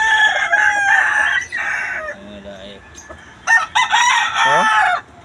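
A rooster crows loudly and close by, giving one long crow, a short pause, then a second full crow with a lower clucking note near its end.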